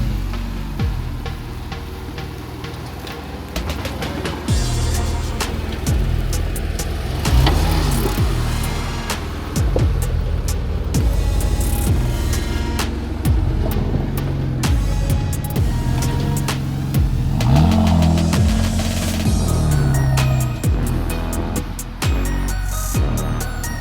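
A modified Toyota Hilux engine revs hard and close, with rising and falling roars, gear changes and mechanical clatter running continuously without talk.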